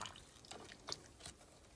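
Hair extension bundles being gently stirred in a basin of shampoo water, giving soft, faint sloshes and drips in a few irregular splashes.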